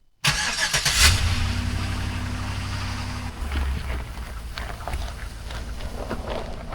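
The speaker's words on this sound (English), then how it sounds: "I'm going to move my parents' truck" A pickup truck engine cranks and fires up loudly nearby, revs briefly, then holds a steady running rumble as the truck begins to move off in a winter setting, with no speech.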